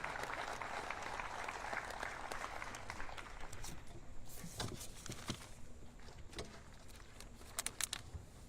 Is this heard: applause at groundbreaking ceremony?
yes